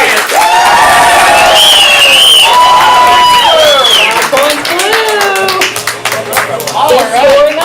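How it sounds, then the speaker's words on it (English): Theatre crowd at a ComedySportz Portland improv show clapping and whooping loudly in sustained applause for a team, with shouted voices and cheers rising over the din throughout. "applaud much louder for the team you want to win the next 5 points"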